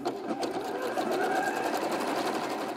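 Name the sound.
sewing machine stitching a fabric scrunchie seam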